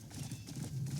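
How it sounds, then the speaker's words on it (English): Horse hooves clip-clop at a steady riding pace in the video game Crimson Desert, a soft, even rhythm of muffled steps heard alone at low volume. "Guess I'll make use of the horse until we get there."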